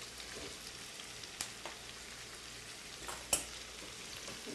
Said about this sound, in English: So now I'm going to add my blanched green beans.